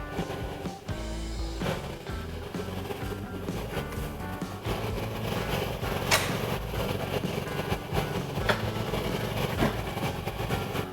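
A Honda Ruckus scooter engine idles inside a garage to warm its oil, a steady low rhythmic chugging that runs close and unbroken through the clip.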